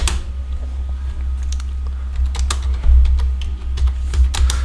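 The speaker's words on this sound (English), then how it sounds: "Let me just type the same and see if" Keys clatter quickly and continuously on a computer keyboard, close and fairly loud, with a low steady hum beneath the typing.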